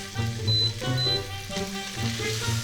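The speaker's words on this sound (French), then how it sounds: "on ajoute les lardons et les oignons" Bacon lardons and onions fry over high heat in a cast-iron pot, a loud, close, steady sizzle and bubbling hiss with faint stirring, unbroken by speech.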